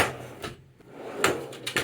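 A drawer of a Snap-on or Bluepoint tool service cart slides and knocks, with a few short clunks and rattles of metal tools at close range.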